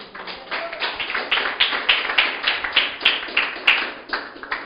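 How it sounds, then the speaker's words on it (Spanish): A congregation at a church sermon claps in a steady rhythmic beat, sharp individual claps repeating about three times a second, fairly close and without speech. "Aplauda al Señor"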